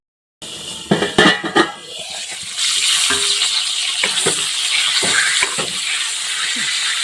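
Bitter gourd stirred and turned in a hot pan, a clattering scrape of the spatula at first, then a continuous sizzle and frying hiss with scattered knocks.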